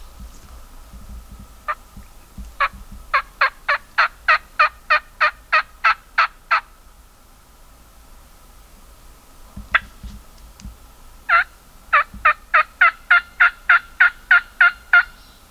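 Wild turkeys gobbling in a wet Mississippi morning, two long bursts of rapid, evenly spaced gobbles rising in loudness, separated by a quiet gap, with faint low rumble underneath and no talk.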